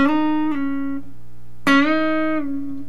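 Two sustained Hendrix-style electric guitar notes, each plucked and then bent upward a whole step before easing back down, ringing clearly with no talking.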